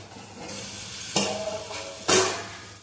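A spoon stirs a cooked wild vegetable dish, pathri bhaji, in a pan in a rural kitchen, giving soft scraping sounds with two sharper clatters against the pan over a faint steady background.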